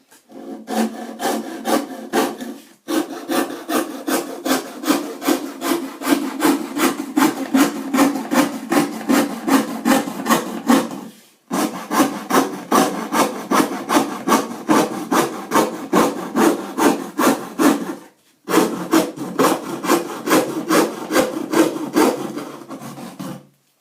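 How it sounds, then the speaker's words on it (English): A hand saw cuts through a Mokulito printmaking plate in steady back-and-forth rasping strokes, close up, with a few brief pauses between runs of strokes. "I'm going to cut up my Mokulito plate"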